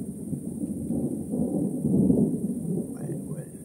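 Thunder rumbles on a stormy evening in the Vosges, a low sustained roll swelling in the middle and easing off, fairly distant and heavy.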